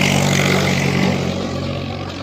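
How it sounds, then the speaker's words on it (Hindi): Tractors rumble past outdoors with a steady low engine drone and broad mechanical noise, holding loud and constant and easing only slightly toward the end. "मुझे लगता है कुछ ट्रैक्टर आ रहे हैं"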